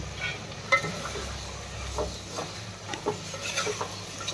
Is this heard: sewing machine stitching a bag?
no